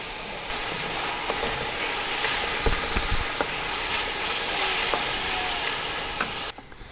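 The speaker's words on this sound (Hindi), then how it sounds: "टमाटर को हम यहाँ पर मीडियम टू हाई फ्लेम के दरमियान पर भून लेंगे।" Tomatoes fry over a medium to high flame, hissing steadily up close with a few sharp spatters and pops, then cutting off abruptly near the end.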